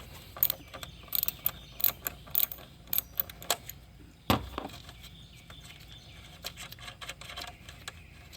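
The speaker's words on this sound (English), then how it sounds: "I'm going to disconnect this ground wire, so a 10mm nut." A ratchet wrench loosens a 10mm nut on the ground wire of a Dodge Dart, a series of quick clicking bursts up close, then a single louder clunk and sparser clicks.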